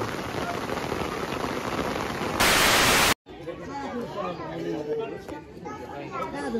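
Heavy rain pouring steadily outdoors near an election polling station, a dense drumming hiss with a loud burst of noise midway, while people chatter in the background.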